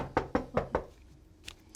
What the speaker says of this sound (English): There's a knocking on your door